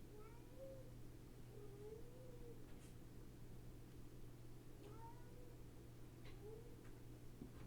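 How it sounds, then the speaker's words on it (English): A cat meowing several times with short, faint calls spread out over a steady low electrical hum, indoors, with no talking. "This cat is so annoying, dude."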